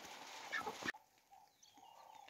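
Chickens cluck briefly against a noisy outdoor background that suddenly drops away, leaving faint scattered clucks.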